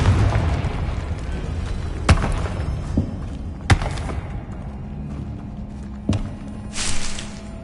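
Confringo fire-blast spell explosions in Hogwarts Legacy, several separate sharp thumping blasts spaced seconds apart over a low rumbling combat background.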